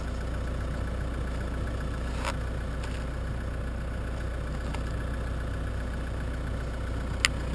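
A vehicle engine idles in a low, steady drone, unchanging and close, with a few faint clicks over it and no talking.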